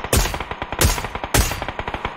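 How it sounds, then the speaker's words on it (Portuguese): Loud video-game gunfire: three heavy, close shots spaced roughly half a second apart, each with a sharp crack and booming low tail, separated by rapid clicking mechanical sounds, no talking. "Eu vou atirar, chama a atenção deles."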